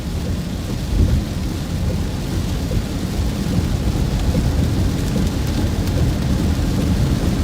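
Heavy rain pours steadily outside a vehicle pulled over near an interstate during a tornado-warned storm, with thunder rumbling loud and close throughout; no one speaks.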